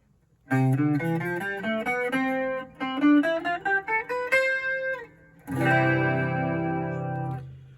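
A clean hollow-body electric guitar, an Ecowood EH-5 on its front pickup, plays a short run of plucked notes and then a ringing strummed chord, warm and round in tone, with no voices.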